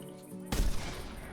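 A single loud gunshot from a .243 rifle or 12-gauge single-shot shotgun in the hunting video game theHunter Classic, a sharp blast followed by a brief rolling echo decay.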